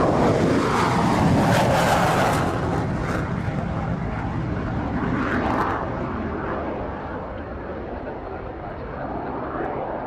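A fixed-wing aircraft roars loudly near an airport tower, its engine noise swelling and then slowly fading over several seconds, mixed with wind buffeting the microphone.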